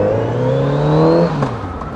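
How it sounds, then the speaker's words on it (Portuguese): Kawasaki Z900RS motorcycle, a tribute to the 1972 Z1 Super 4, with its engine roaring loud and close as it revs up and then drops away as the rider shifts gear. "pra lembrar esse ronco da Z1 de 1972, a lendária Z1 Super 4"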